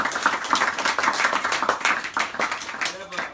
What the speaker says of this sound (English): get one more round of applause for HB